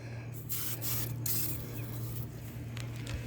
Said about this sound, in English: we're going to spray inside here too